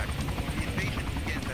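A military helicopter in the Arma II video game drones with a loud, continuous rotor thump and engine whine that fills the whole moment.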